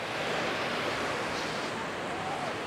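Surf washing onto a crowded beach at Canasvieiras, Florianópolis, Brazil: a steady, loud roar of breaking waves with a windy hiss that fills the whole moment without a break.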